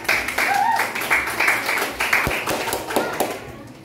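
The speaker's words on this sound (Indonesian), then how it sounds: "Tepuk tangan dong untuk kelompok." A small group in a classroom claps hands in loose, uneven bursts, fairly close, with some voices and cheering mixed in.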